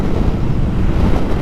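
Steady, loud wind buffeting the microphone while riding a Royal Enfield Interceptor 650 motorcycle with a small windscreen, a dense low roar with no breaks and no voices.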